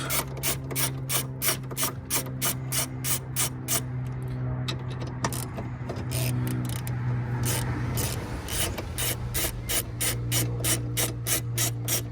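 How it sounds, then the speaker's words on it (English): Ratcheting clicks from a hand tool taking out a hood latch screw on a BMW 650i with N63 engine, in a steady rapid rhythm, close and fairly loud, with a brief pause in the middle. "Remove the other screw from the hood latch."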